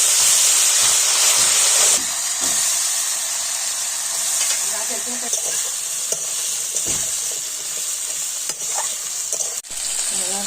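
Chopped pointed gourd, vegetable stalks and potato sizzling and frying in a hot pan, a steady loud hiss with occasional stirring clatter, continuous with no speech.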